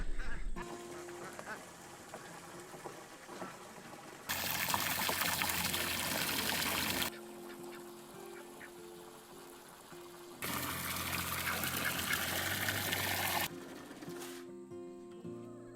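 Water is poured in two long, steady bursts to refill animals' cool drinking water during hot weather, a rushing splash lasting several seconds each time, with quieter gaps of ambient farmyard sound between.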